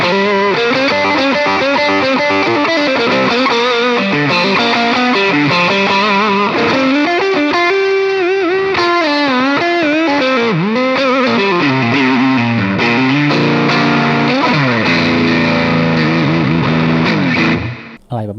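Distorted electric guitar with a Kazuki Rough Stone pickup, played as a loud, continuous run of sustained chords and bending lead lines that carries steadily before cutting off at the end.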